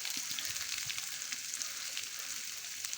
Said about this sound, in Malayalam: ഇനി അതിലേക്ക് സവാള പച്ചമുളക് എന്നിവ ചേർക്കാം